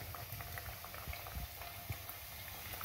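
Potato and Maggi noodle tikki deep frying in hot oil over medium heat, with a soft, bubbling seethe and scattered low pops and crackles, fairly faint and continuous, with no speech.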